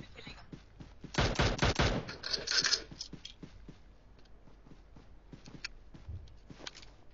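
Bursts of rapid gunfire from an MK2 gun in a video game, a dense loud volley early on followed by scattered lighter shots and clicks, with game sounds continuing in the background.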